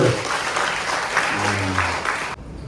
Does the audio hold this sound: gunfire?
no